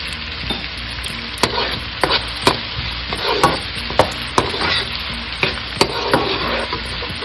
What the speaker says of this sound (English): Now we're going to add 1/2 teaspoon of cumin seed.